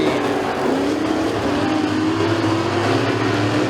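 Pure stock race cars roar around a dirt track at McKean County Raceway, engines running side by side in a loud, continuous wall of sound.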